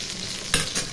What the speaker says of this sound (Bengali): কুমড়ো ফুলের ভাজা আর লঙ্কা ভাজা করে নিচ্ছি